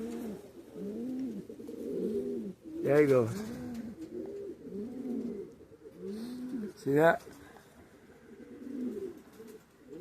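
Spanish Pouter pigeons coo steadily at a pigeon show, their soft, rhythmic rolling calls running throughout while someone talks nearby over them.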